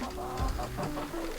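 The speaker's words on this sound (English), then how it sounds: "chickens are doing good this winter, especially for how cold it's been." Chickens cluck softly and repeatedly nearby in winter on a homestead, a few short clucks and low calls in a quiet setting.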